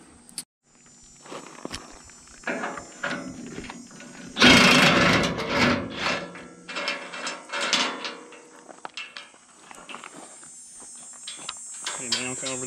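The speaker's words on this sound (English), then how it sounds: "The next thing we're going to do is unbolt this other end bracket" A ratchet unbolts an end bracket on a four-post auto lift, with bursts of quick clicking and metallic clanks, close by, mixed with shuffling and a loud clatter partway through.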